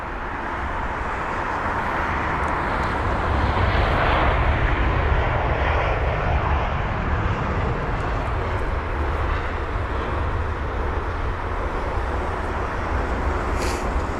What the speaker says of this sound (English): I've got this British Airways aircraft.